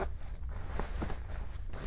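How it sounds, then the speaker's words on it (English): A black jacket is zipped up in a few quick, soft rasping pulls close by, over a steady background hiss. "Let me zip it up for y'all."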